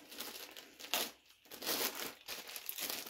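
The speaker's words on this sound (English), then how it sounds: "Here, I'll just cut it." A taped-up plastic packaging bag holding a PB Swiss flathead screwdriver is cut and pulled open. It gives close, loud bursts of crinkling and rustling plastic with short pauses between them, and no talk.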